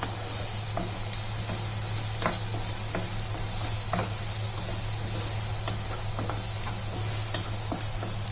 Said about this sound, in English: We should fry the onion till they are translucent